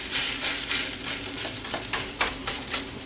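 A small rubber spatula presses food down in a hot skillet for a big stack breakfast, giving a steady close sizzle with soft scraping pushes and occasional louder spits, and no one speaking.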